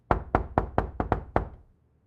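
Seven firm knocks on a door in an uneven rhythm, close and crisp, each with a short hollow decay, followed by quiet.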